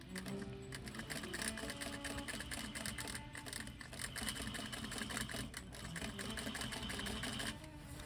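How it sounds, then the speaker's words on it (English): A sewing machine stitches fabric over a pressed line and across pins, running in a steady close mechanical whir with a rapid rhythmic needle patter. "I'm just stitching over that press line and right over the pins"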